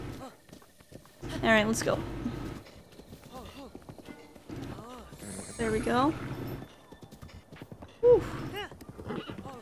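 A horse's hooves clip-clop across the ground in the video game Breath of the Wild, with scattered hoof thuds between stretches of someone talking over them.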